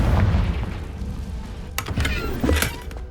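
A Confringo spell blast booms in Hogwarts Legacy, set off inside a dusty, cobwebbed room and followed by a few sharp cracking bursts over a low rumbling background.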